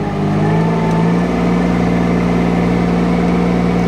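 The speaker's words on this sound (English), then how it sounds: "I'm going to go over and come up to full revs" Mini excavator engine held at full revs, a loud, steady mechanical drone with a strong low hum and constant harmonics throughout, no speech.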